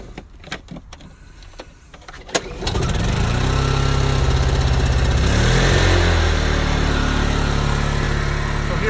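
A Honda EU2000 generator with an extended-run fuel tank starts after a few clicks and knocks, then settles into a steady, loud engine drone close by.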